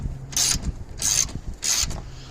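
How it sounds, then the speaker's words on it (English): A wrench ratchets a 10mm bolt loose in three quick, close, rasping bursts with short pauses between them. "So here we got a 10mm bolt. I'm just going to pull that off real fast."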